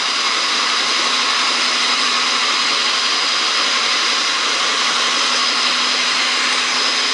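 Peppermint candy dough being mixed with vegetable shortening by an electric mixer, a steady loud whirring motor drone that runs unbroken throughout, with no talk.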